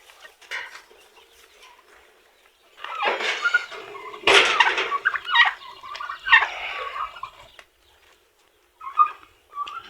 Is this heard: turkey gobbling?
yes